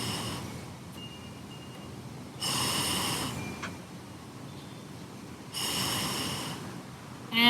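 Slow, deep breaths taken outdoors during a yoga session on a slight hill, two long airy exhales a few seconds apart, close and soft with quiet ambience between.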